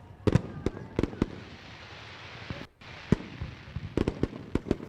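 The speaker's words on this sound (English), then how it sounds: "World fireworks lighting up the skies we do every week here." Weekly fireworks display at Ohsweken Speedway after a race win, with sharp bangs and crackling bursts scattered irregularly over a steady crowd and ambient hiss, moderately distant.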